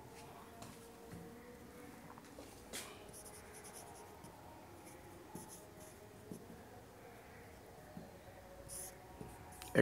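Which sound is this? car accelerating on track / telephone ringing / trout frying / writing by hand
writing by hand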